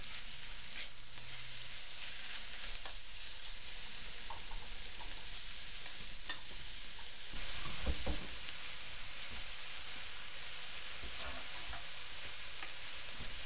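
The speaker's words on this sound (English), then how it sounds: "to sear the meat a little bit to bring out the flavor" Meat searing and being stir-fried in a pan, a soft, steady sizzle with faint scraping and stirring, a brief louder clatter midway, and no voices.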